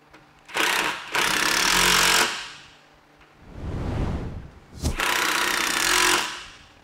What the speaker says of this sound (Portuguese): Parafusei um lado, parafuso o outro.